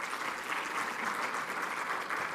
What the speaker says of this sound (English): Please, let's give the minister another round of applause.